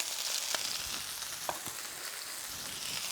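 Soft, steady sizzling of shallots in a frying pan, with a few faint crackles and pops scattered over the hiss.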